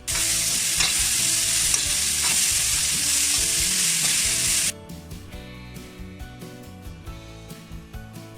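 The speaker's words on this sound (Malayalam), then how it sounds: "ഇനി ഇതിലേക്ക് നേരത്തെ അരിഞ്ഞ് വെച്ച കോവയ്ക്കും ചേർത്ത് കൊടുക്കാം. എന്നിട്ടത് നന്നായിട്ട് മിക്സ് ചെയ്തെടുക്കാം." Chopped ivy gourd sizzles loudly in a hot pan while being stirred for a Kerala-style thoran, a bright steady frying hiss that drops sharply halfway, leaving quieter crackling and scraping stirs.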